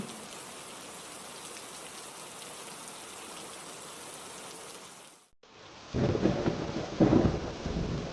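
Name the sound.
rain and thunder in a cartoon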